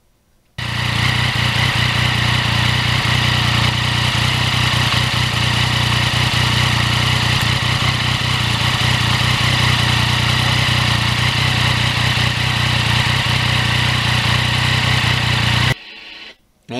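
A 2020 Yamaha MT-09 crossplane triple motorcycle engine drones steadily and loudly while riding, a close continuous engine note that cuts off abruptly near the end.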